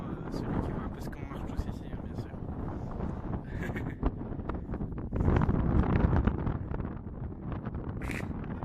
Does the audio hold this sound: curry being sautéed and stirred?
no